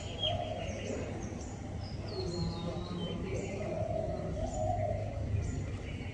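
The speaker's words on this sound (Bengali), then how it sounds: "এই ডাহক পাখি জোড়া" A pair of white-breasted waterhens calling outdoors, giving faint, repeated calls spread across a quiet, noisy background.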